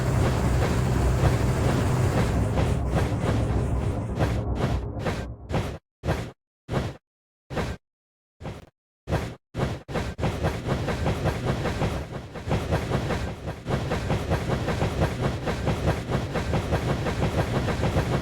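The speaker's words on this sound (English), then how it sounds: "The dinosaur train pulls ahead." A dinosaur train races in a PBS Kids rail rally video game, a loud rushing rumble of wheels and clatter that breaks into rhythmic whooshing gaps before settling back into a steady roar, with no talking.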